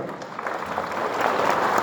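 Concert audience applauding at a city event, a dense wash of many hands clapping that swells slightly louder toward the end, with no voices over it.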